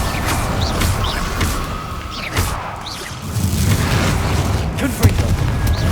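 Fiery spell effects from Hogwarts Legacy burst and boom through dense game combat noise, with repeated crackling whooshes and low impacts layered over a constant rumble.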